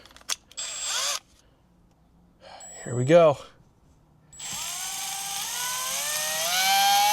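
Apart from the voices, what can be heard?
low-powered screw gun drilling into truck headliner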